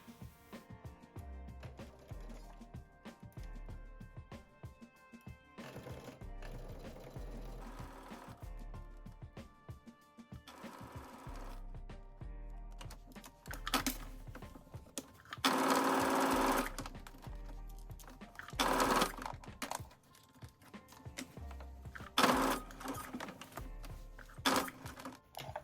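A sewing machine stitches a 5/8-inch seam on a jumpsuit, a fast steady mechanical whir in several runs separated by short pauses, quiet and close with no speech.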